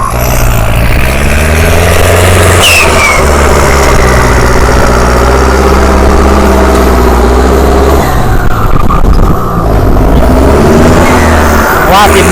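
A new, stock car pushed hard while driven, its engine droning loud and continuous with a rising strain toward the end, under a voice talking throughout.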